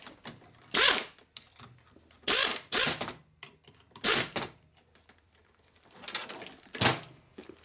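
A torque wrench tightens a terminal on a rebuilt 65A 12-volt Harley Sportster generator, making bursts of close ratcheting clicks separated by short pauses.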